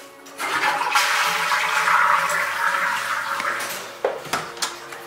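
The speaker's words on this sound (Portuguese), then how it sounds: "Deixa eu dar descarga no banheiro pra fingir que eu dei descarga." A toilet flushes up close with a loud rushing whoosh that swells and then drains away over a few seconds, followed by a few short clunks.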